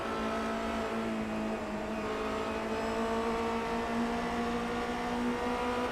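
A Formula Renault race car engine in the iRacing sim at Road America drones steadily with a sustained, even whine and no noticeable revving changes, fairly loud and continuous throughout, with no voices.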